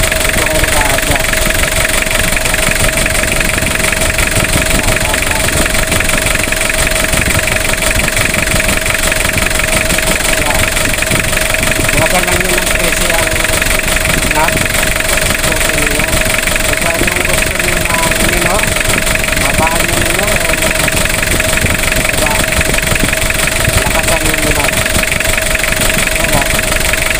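A smoky, hard-starting diesel engine runs loud and steady at a close idle during a fuel pump adjustment, with a constant rumbling drone and a voice talking over it.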